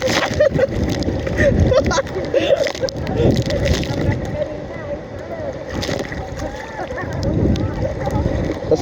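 Strong sea waves slosh and splash against a boat near Dingalan, Aurora, surging in irregular heavy bursts of churning water, close and loud, while voices speak amid the noise.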